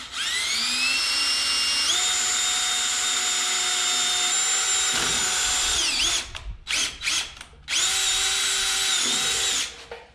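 A power drill bores a half-inch hole through a truck frame and hanger during a Super Duty rear axle swap. It gives a loud, sustained whine that rises in pitch, then stutters in short bursts before a final run and stop.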